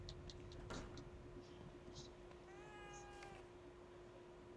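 A cat meows in the survival horror game The Evil Within 2, one clear drawn-out call midway through a quiet scene, with a faint steady tone and scattered soft clicks around it.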